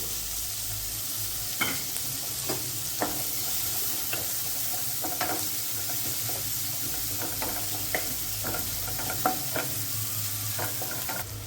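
Finely chopped onion fries with garlic in a pan for a simple pasta, producing a constant close hiss with scattered spoon scrapes and taps against the pan, and no one talking.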